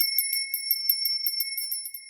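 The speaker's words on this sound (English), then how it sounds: "I'm going to ring the bell over these cards." A small bell rung repeatedly over a deck of oracle cards, giving about a dozen bright, evenly spaced metallic dings that ring on steadily and alone.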